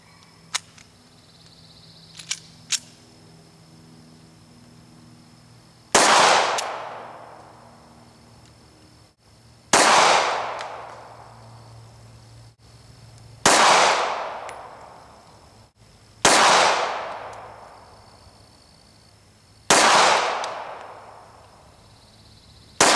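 Ruger LCP pistol firing five loud, sharp single shots spaced a few seconds apart, each with a ringing outdoor decay, after a couple of faint clicks from handling.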